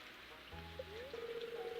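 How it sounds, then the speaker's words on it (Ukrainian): Steady rain patters and hisses through the whole stretch in Stardew Valley, with a soft continuous wash and faint droplet ticks, joined midway by a low game tone that slides upward and holds. "сьогодні треба пережити цей проливний дощ"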